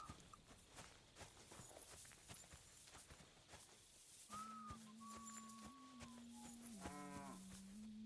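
A cow lowing in the video game Kingdom Come: Deliverance 2, a long drawn moo rising and wavering after a stretch of quiet footsteps, fairly near and alone.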